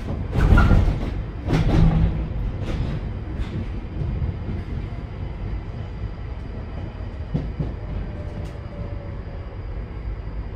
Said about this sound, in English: This is the Northern Line train via Bank terminating at Morden.